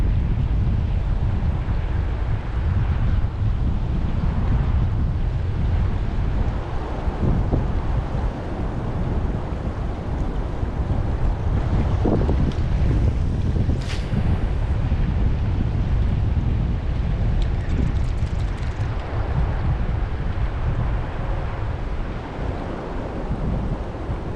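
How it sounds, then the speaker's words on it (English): Strong wind buffets the microphone in a constant low roar for the whole stretch, with lake water lapping faintly underneath at Lost Creek Lake, Oregon. "Apologies for the wind if I haven't said it already."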